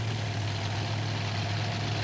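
Alcohol-burning drag racing car engines idle and rumble at Canfield in 1995. A steady, loud, low drone holds without break, with no voices.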